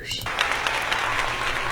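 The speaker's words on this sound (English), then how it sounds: "did they seriously do like a keyboard clap effect there?" A short burst of keyboard-style synthetic clapping, a quick run of crisp claps that keeps going steadily for under two seconds.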